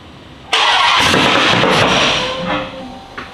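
A Dodge Hellcat V8 being built up toward 2000 horsepower cranks and fires abruptly, roaring loud and close for about two seconds before settling down, with no talking over it.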